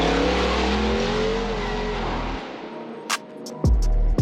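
A supercharged 2021 Ford F150 truck with a Whipple supercharger revs hard and loud for over two seconds, then drops away; a short burst and a few sharp bangs follow near the end.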